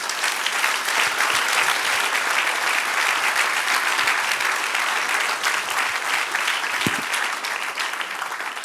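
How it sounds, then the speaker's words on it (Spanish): Sustained applause from a large church congregation, steady and dense throughout with no pauses, filling the whole stretch. "Dar un aplauso al Señor."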